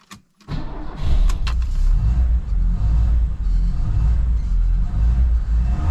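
A 1975 Lada 1500 (VAZ 2103) being revved on the gas pedal after sitting for half a year, a brief starting clatter then a steady, loud close engine roar with small swells, no talk.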